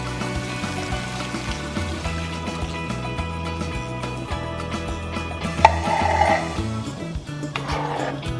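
Liquid is poured into a pot of vegan rasta pasta, giving a couple of brief splashing gushes that rise over steady background music.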